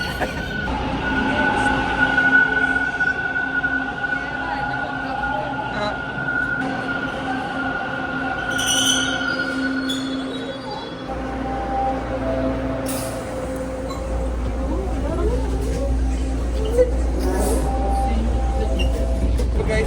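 A metro train rumbles steadily throughout, with a low drone that grows heavier near the end and faint tonal whines above, no talking.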